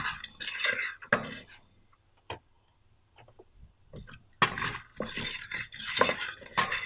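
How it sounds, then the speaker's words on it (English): Cumin seeds sizzling in hot oil in a pan for a mushroom bean curry, with bursts of spoon-on-pan stirring and scraping at the start and end and a quieter spell of faint clinks in between. "I'm going to add the cumin seeds now. Just cook for a minute."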